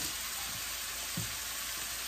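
Ground beef browning in a skillet while a biscuit cheeseburger dinner is made, giving a steady close sizzle throughout with a couple of faint scrapes.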